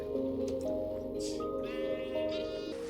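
A few sheep bleats in the video game Minecraft, close and clear, wavering calls following one another over a quiet background.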